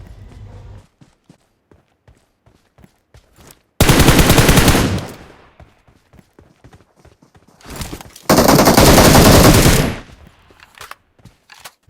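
Long bursts of rapid automatic gunfire in a battle royale match erupt twice, loud and close, separated by quieter footsteps and small scattered clicks.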